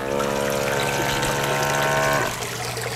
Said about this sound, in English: Now it's still running and the pump's still going.